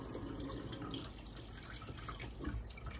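A tap runs in a home, its water flowing as a low, steady rush that stays quiet and unchanging with no voices.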